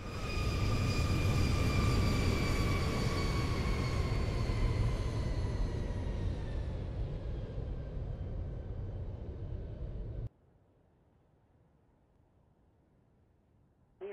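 An airliner rolls down the runway and takes off in the X-Plane 12 flight simulator, a loud steady engine roar with a rising whine that fades before cutting out abruptly.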